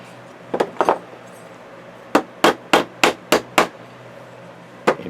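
A hammer taps staples into a picture frame: two light knocks, then a steady run of five sharp, close hits, and a final pair of taps, with no voices.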